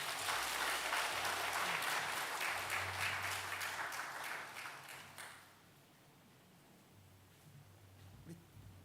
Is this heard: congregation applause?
yes